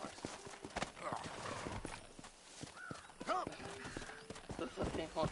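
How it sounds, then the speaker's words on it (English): Hooves clip-clop steadily from a horse in the Red Dead Redemption video game, with a few whinnies rising between the hoofbeats as a person talks throughout. "This is a pink horse."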